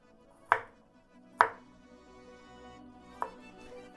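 Three sharp knife chops through a garlic clove on a cutting board, the first two close together and the third after a pause, with a faint background hum in between.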